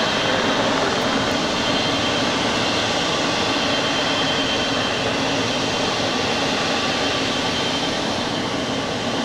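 An airliner landing on runway 25 left at LAX produces a loud, steady, broadband jet roar that stays constant for the whole stretch, with no voices over it.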